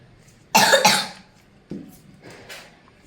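A child with a cold coughs twice in quick, harsh bursts, followed by a couple of softer coughs a moment later, close by in a quiet room.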